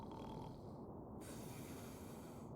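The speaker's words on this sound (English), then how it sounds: "The scutter listens and is rewarded by a Listerian snore." Snoring of a sleeping man in a radio drama set in a spaceship's sleeping quarters at night, a faint, low, rough continuous breathing sound with no talking.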